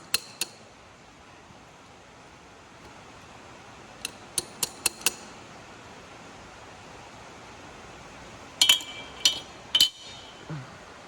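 A hammer taps a wheel bearing into place with a few sharp metallic clinks, first single strikes, then a quick run of taps and a last cluster of louder ringing hits over a faint background hiss.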